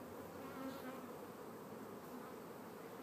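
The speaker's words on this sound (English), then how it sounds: "These bees are doing really, really well." Steady, dense buzzing of many honeybees close by at an open hive, a continuous droning hum with no talking.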